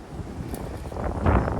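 Strong wind gusts buffet the microphone on a hilltop, a broad rumbling roar that builds toward the end of the short stretch, with no talk over it.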